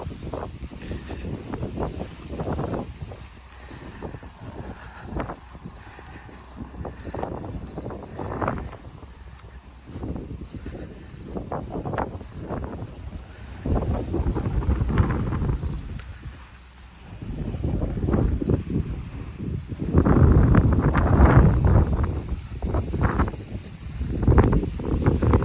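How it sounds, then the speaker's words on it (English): Strong wind blows across an outdoor garden in Minnesota, a steady rushing roar with louder gusts building toward the end and close microphone buffeting throughout. "it's really windy."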